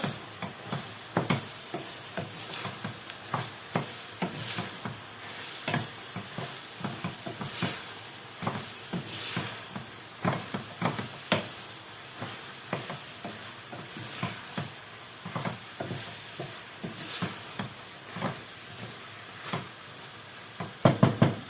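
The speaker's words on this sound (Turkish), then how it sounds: "nanemiz kavruluyor" Onions, garlic and mint fry in oil in a pan, a steady close sizzle broken by frequent stirring scrapes and light knocks throughout, with no talk.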